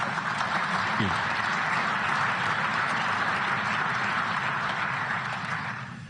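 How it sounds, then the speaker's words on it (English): Audience applause during a speech at a security conference in Munich: dense, steady clapping from a large hall that holds at full volume for several seconds, then fades slightly at the end. "I hope that's not the last bit of applause that I get"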